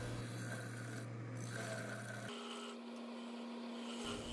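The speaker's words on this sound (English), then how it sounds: "Finalizing the foot here using the Cutter & Son skew chisel." A Cutter & Son skew chisel shaves the foot of a spalted maple piece spinning on a wood lathe. It gives a steady, close scraping hiss over the hum of the lathe motor, and the motor's pitch shifts partway through.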